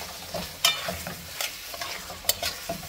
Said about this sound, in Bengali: এখন শোল মাছ দিয়ে আমি খুব ভালো করে কষাবো